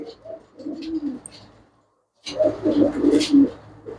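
Pigeons cooing up close, low soft throaty coos in two bursts separated by a brief near-silent pause.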